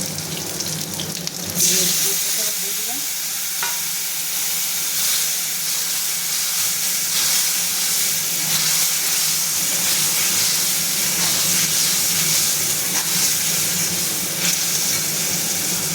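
Spice masala being sautéed together with fried eggplant for a thin hilsa fish curry, a loud, dense sizzle running continuously with scattered stirring scrapes, after a brief quieter start.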